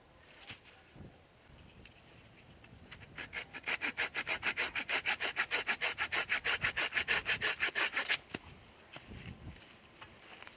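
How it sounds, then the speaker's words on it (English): A hand saw cuts a wooden stick to length for a turkey blind setup, with a few tentative strokes that build into a fast, steady run of rhythmic rasping back-and-forth strokes, close and loud, then stop abruptly. "So I'll go in and see how tall I need to cut this stick."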